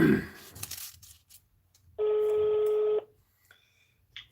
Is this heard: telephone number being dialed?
yes